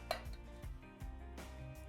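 Spice mix scraped out of a bowl for Jamaican chicken wing marinade: a series of close, soft clinks and scrapes of utensil against the bowl, irregular and fairly quiet, with no voices.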